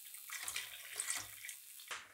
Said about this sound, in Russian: И насос опять включился и откачивает воду.